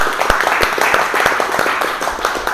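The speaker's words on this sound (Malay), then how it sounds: "Tepuk tangan tu Abang Yus" A small group applauds Abang Yus at a car-dealership sales training session, with steady, fairly close hand claps in an irregular rhythm throughout.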